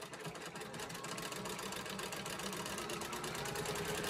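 Sewing machine double stitching a cathedral window quilt: a fast, steady mechanical rattle of the needle running continuously at close range, fairly quiet, with no talk.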